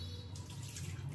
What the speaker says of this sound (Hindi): तो इनका जो पानी है वो मैं निकाल दूंगी।